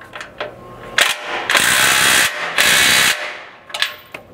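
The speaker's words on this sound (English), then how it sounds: "you can come back and tighten this through bolt out here on the side" Ratchet wrench tightening a through bolt on the side of a rear strike bumper being installed on a Lexus GX 550, loud close bursts of rapid clicking in several runs with short pauses between.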